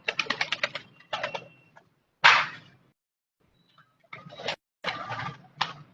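Rampuri pigeons with striking netted eyes, heard close up in a run of short bursts with brief pauses between them. Several clustered bursts come early, then one louder sound, then a few further bursts near the end.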